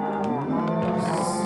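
Cows in the Minecraft video game let out a loud, low, drawn-out moo that fills the short moment, with no talking over it.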